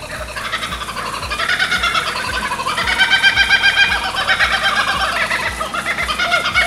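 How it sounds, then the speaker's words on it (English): Several Australian kookaburras call together outdoors in a loud, rising chorus of rapid, cackling, laugh-like notes that swell in the middle and carry on throughout. "That's the Australian kookaburra for my overseas friends."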